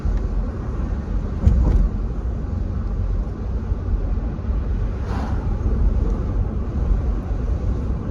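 Classic car driving along on the road, a steady low engine and road rumble with wind noise, loud and close from inside the cabin, with no talking.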